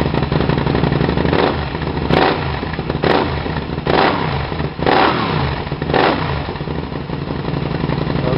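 A Can-Am Spyder with a Yoshimura exhaust revs hard several times over a steady idle, each throttle blip rising to a loud bark before falling back.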